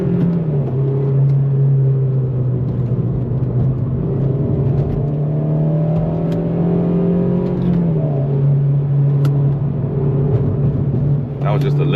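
A Honda Civic FG2 engine drones loudly from inside the car on a winding highway, a steady strained note dipping and rising as the throttle is worked through corners, with a person talking over it.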